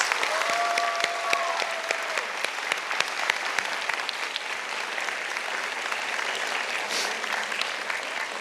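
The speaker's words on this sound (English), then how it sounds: "let's have one big round of applause for our team of teachers" Audience at a middle school graduation ceremony giving a long, dense round of applause for the teachers, steady clapping filling the hall for several seconds.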